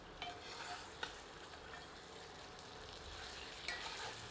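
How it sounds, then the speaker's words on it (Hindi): Mutton browning with spices in an iron kadhai for Odia-style mutton aloo jhol, giving a soft, steady sizzle with occasional scraping stirs and light clinks of the spoon. "हमारा मटन अब मसालों के साथ अच्छी तरह से भुन चुका है"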